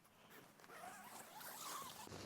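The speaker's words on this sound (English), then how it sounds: "Got double zippers." Zipper pulled along the door of a Unigear Space Dome 2 budget two-person dome tent with double zippers, a steady close ripping rasp running the whole stretch with no talking.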